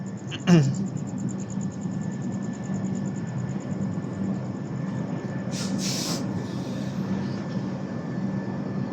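An Indian superfast express train from Kolkata to Agra Cantt runs with a steady low rumble and hiss heard from inside, with a sharp clunk near the start and a brief burst of noise around the middle.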